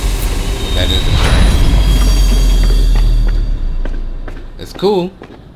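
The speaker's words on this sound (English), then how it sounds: "That is a train." A subway train in the DARQ game rumbles past with a deep rolling roar and faint wheel clatter, fading out, while someone talks over it near the end.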